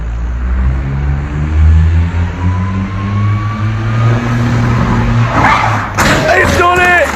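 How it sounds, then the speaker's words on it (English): A smart car swings through a J-turn, its small engine droning steadily as the tires scrub and skid across the surface, ending in a sudden loud burst of noise. "Here's a J-turn in a smart car."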